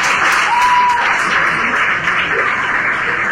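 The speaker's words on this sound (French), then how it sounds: "C'est applaudir, en tout cas, il ne faut pas applaudir trop fort." Loud, close audience applause at a school event on girls in science and technical fields, a continuous, even patter of clapping hands throughout.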